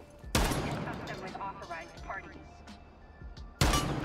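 Shotgun blasts in Rainbow Six Siege: two loud, sharp reports, one near the start and another near the end, with someone talking quietly in between.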